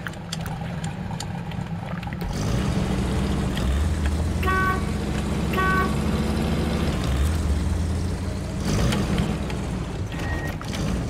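A heavy truck in the SnowRunner game churns through deep mud as its engine rumbles low and steady, rising and falling under strain, with short tonal hoots and mechanical clunks on top and no speech.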